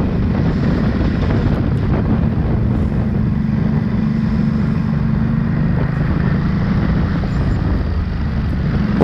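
Ducati Supersport S motorcycle ridden on a test ride, its engine a steady, loud drone heavily buffeted by wind noise throughout, with no talking.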